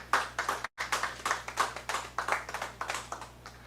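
Conference plenary audience applause: steady, moderate clapping from a small crowd, sustained evenly for several seconds without voices on top.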